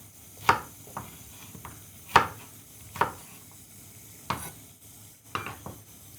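Garlic, ginger and onion cut in large pieces fry in a pan for a beef curry, heard as a few sharp spatula scrapes and clinks against the pan over a faint sizzle, with no talking.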